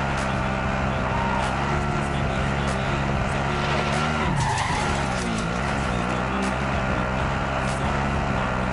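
Video game car driving with tire skids on a PS4 broadcast, a steady loud engine drone running throughout with a squealing slide near the middle.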